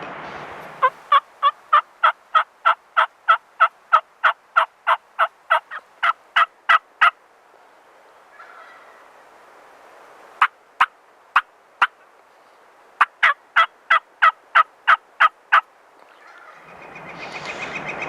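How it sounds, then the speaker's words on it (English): Wild turkey gobblers on a mountainside sound off in long rapid runs of loud, sharp gobbles, pausing and then bursting out again, fairly close and clear with no talk. "But I just had them gobble at me."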